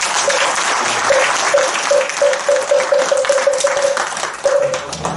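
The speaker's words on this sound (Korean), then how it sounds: "큰 박수 부탁드리겠습니다" A large congregation claps together at a Sunday Buddhist dharma service in a Zen hall, a dense and steady round of applause that carries for several seconds. A faint tonal hum runs beneath the clapping.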